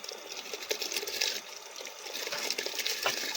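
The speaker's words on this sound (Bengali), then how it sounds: "বন্ধুরা এইদিকে চালের যে জল ভালো করে ফুটে গেছে, একদম খুব সুন্দর ফুটে গেছে।" Water with rice boiling in a cooking pot for biryani, a soft steady bubbling and gurgling with scattered small pops, fairly quiet and close, with no talking.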